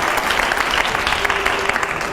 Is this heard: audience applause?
yes